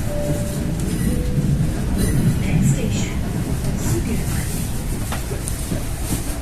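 An electric commuter train rumbles steadily along the rails with a low continuous roar, faint squeals and clatter mixed in, heard from inside a carriage.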